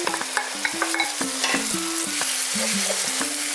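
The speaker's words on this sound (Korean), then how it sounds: "밥을 볶기 전에 김치부터 먼저 볶아주세요." Kimchi stir-frying in plenty of oil in a pan, a steady sizzle broken by repeated scraping and clattering strokes of a utensil, close and fairly loud with no talking.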